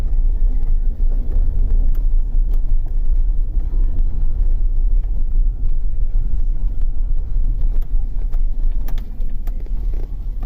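A 2004 Chevrolet Suburban with a 6.0L engine and 4x4 reverses across a parking lot, a continuous heavy low engine rumble close to the microphone, steady throughout with some wind buffeting.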